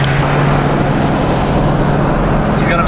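Supercharged ProCharger-equipped C6 Corvette engine droning loudly and steadily with a strong low hum, a faint high whine emerging near the end, under road noise and brief voices.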